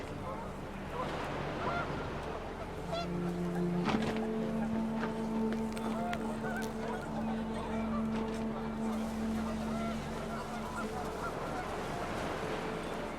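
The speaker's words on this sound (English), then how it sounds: "The wind picked up, and panicked geese appeared and quickly went." Panicked geese honk repeatedly in a windy outdoor scene from the video game What Remains of Edith Finch, with steady ambient noise and a brief tonal swell.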